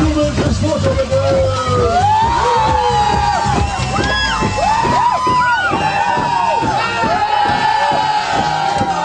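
A crowd at a sports award ceremony in Schwerin cheers and whoops for a photo, loud overlapping shouts and yells from many voices, close and sustained for several seconds.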